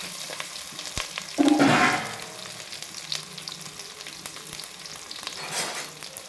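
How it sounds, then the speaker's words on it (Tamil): Onions and green chilies sautéing in a pan for a tomato kurma, a close steady sizzle with a loud burst of hissing early on and scattered stirring scrapes, no talking. "நல்லா பொன்னிறமாகிற வரைக்கும் வதக்கணும்."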